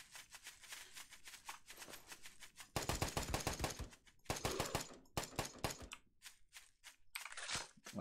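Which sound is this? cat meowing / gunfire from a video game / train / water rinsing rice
gunfire from a video game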